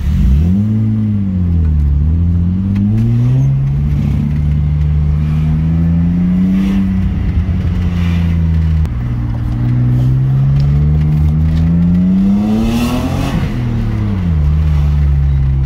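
A BMW E36 six-cylinder engine revs up and down repeatedly, its smooth pitch climbing and dropping, loud and close with a steady rumble throughout.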